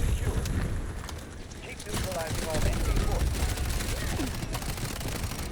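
Gunfire from a gun in the video game Delta Force rattles in dense rapid bursts across the whole stretch, mixed with other game noise.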